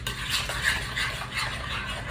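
Manicotti filling, with black beans, being mixed in a bowl, a steady close scraping and stirring with a faint background hiss throughout, no voices.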